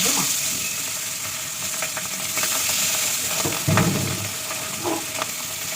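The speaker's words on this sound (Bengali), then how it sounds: "মাছ ভাজা পেঁয়াজ একটু বাদে" Fish sizzles and spatters in a hot pan, with occasional stirring scrapes and clinks close by.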